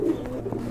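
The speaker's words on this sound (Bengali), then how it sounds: "মাদি কবুতর না?" A female pigeon gives a low, soft coo close by, brief and steady over a faint background hum.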